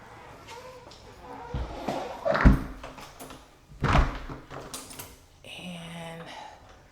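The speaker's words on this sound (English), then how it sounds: "This is the main door right here." The main front door of a newly built modern home is swung and shut, giving a couple of solid thuds and a latch knock close by, with people talking around it.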